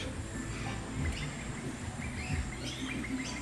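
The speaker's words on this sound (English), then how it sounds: "This is a peewee." A peewee, or magpie-lark, calling near a backyard bird feeding area: a few bright chirping notes over steady outdoor background noise, fairly faint and distant, no talking.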